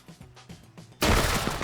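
Sustained automatic gunfire from a tactical shooter match, a full magazine dumped into a cache, bursting in loud and dense after a quieter stretch of softer rhythmic thuds.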